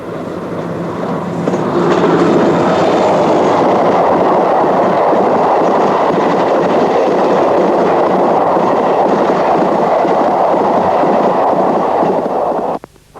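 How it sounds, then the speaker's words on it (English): A Class 47 diesel locomotive hauling a parcels train on the Settle & Carlisle line, a steady rumbling roar with rail clatter that rises within the first two seconds and holds loud and close, then cuts off abruptly near the end. "followed half an hour later by another Class 47 on a parcels train"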